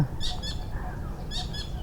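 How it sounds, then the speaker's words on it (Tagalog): A bird inside an abandoned sugar factory gives two short bursts of flapping wings with faint squawky calls, heard close over a low hum of background noise. "Ayun, ibon."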